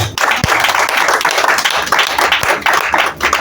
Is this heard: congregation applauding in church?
yes